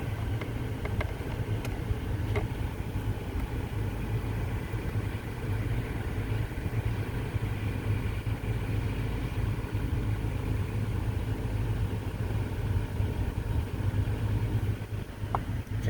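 A 2020 Toyota Tacoma truck engine idles with a steady low rumble that holds unchanged throughout, heard close and alone with no talking.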